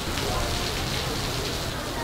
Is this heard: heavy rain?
yes